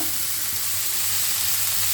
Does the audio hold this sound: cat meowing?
no